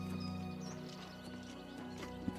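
Horse hoofbeats and a whinny in the video game The Elder Scrolls IV: Oblivion Remastered, from a horse wearing DLC armour, quiet and under steady game music with a faint thud near the end.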